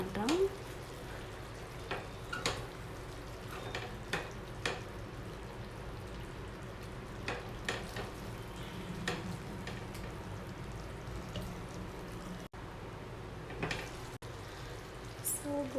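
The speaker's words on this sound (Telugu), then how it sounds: "ఇలా మధ్యలో కలుపుతూ ఉండాలండి" Gongura dal simmering on low heat in a covered pot is stirred now and then, giving soft scraping clicks and faint bubbling under a steady low hum.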